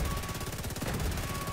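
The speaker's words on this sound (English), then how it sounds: "Shooting, firing." Rapid automatic gunfire rattles in The Division 2 during a raid, a dense burst of shots repeating fast and loud for the whole moment with no voices over it.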